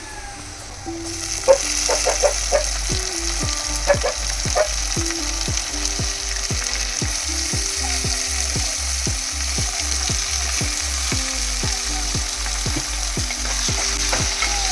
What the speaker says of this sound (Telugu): మనం కట్ చేసి పెట్టుకున్న ఈ అరటికాయ ముక్కలు కూడా వేసేసుకుందాం.